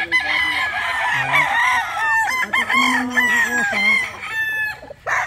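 Gamecock roosters from a game farm crow repeatedly and loudly nearby, several overlapping cock-a-doodle-doo calls filling the whole stretch with brief gaps between them.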